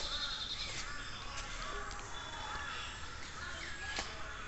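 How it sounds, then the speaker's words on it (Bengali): Faint bird calls, including a few crow-like caws, drift over a quiet village background with a few distant sharp sounds, in Patiya, Chittagong. "একমাত্র পাখির কলকাগুলি এটাই শুনতে পাচ্ছি খালি"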